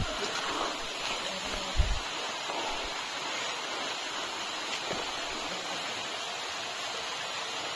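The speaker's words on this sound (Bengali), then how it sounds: "ঝর্ণার দেখা পাইলাম" Steady broadband rush of a waterfall on the Napittachhara trail in Mirsarai, heard as a continuous even roar with a brief low thump near the start and no talking.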